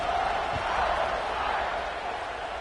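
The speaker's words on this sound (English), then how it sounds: "this crowd is buzzing after that last score" A College Football 26 stadium crowd hums with a steady, dense roar throughout after a score, continuous and fairly loud with no distinct cheers rising out of it.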